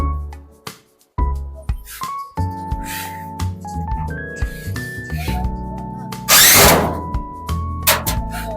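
A power drill drives a screw into the thin back panel of a wardrobe, sounding as repeated whirring bursts that rise and fall in pitch, with clunks and knocks of the panel between them, close and fairly loud.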